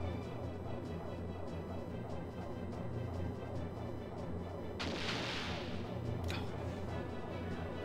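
Ship torpedoes firing in the Skies of Arcadia Legends video game: a sharp burst of launch noise cuts through a steady low rumble of game audio, followed by a second quick crack about a second later.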